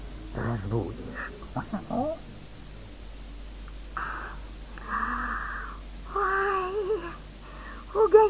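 A cat set to guard a chicken yard meows and yowls in several drawn-out, wavering cries at moderate distance. A voice briefly exclaims and other speech comes before the cries.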